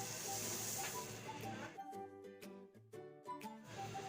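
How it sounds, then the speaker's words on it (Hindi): Tamarind and plum sherbet syrup boils in a pot with a steady, hissing bubble that is strongest at first, then fades under tonal background music. "ये देखें शरबत में बॉयल आ चुका है।"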